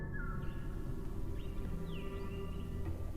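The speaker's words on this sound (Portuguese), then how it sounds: "Na sessão 1 a gente tem um suave e tranquilo áudio de passarinhos cantando" Songbirds singing softly in a calm outdoor setting, a few thin chirps and whistled phrases sitting faintly above a steady low background hum.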